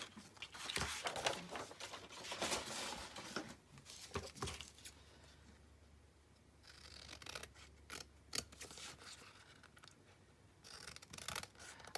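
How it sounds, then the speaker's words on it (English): Paper being trimmed with scissors while decorating a floral craft journal, heard as repeated close snipping and rubbing scrapes in uneven bursts at a moderate level, with no talking. "I'll find my scissors and I'll trim it out"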